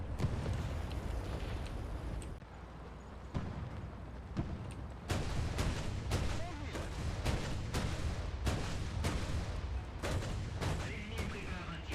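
Turret gunfire from an LVT-4/40 amphibious vehicle in a video game comes as loud, sharp repeated shots in a steady rhythm after a quieter opening, with rumbling battle noise underneath.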